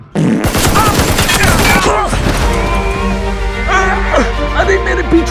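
A loud burst of several gunshots fired together at close range opens the scene, followed by shouting voices and a dog barking as the echoes fade.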